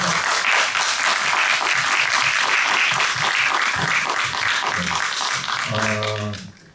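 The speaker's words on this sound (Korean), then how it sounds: "박수라도 한번 좀 쳐주셨으면 좋겠다는 생각이" An audience at a film screening's guest-visit Q&A applauds warmly with dense, sustained clapping that fades out near the end as a voice begins speaking.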